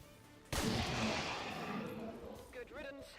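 Heavy gunfire and an artillery blast in XCOM 2: a sudden loud explosive impact followed by a long rumbling decay, with further crackling shots late on and voices talking over it.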